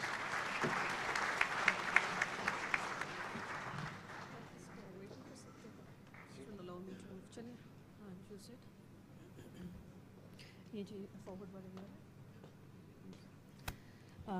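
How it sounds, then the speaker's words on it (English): A conference audience at a C Code ceremony applauds as Dr. Nizamani is welcomed. Dense clapping fills the first few seconds, then fades as a single voice begins speaking. "Let's welcome Dr. Nizamani with a big round of applause"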